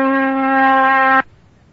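A steady, buzzy 256 Hz electronic oscillator tone rich in harmonics holds at one low-mid pitch for just over a second, then cuts off abruptly into quiet.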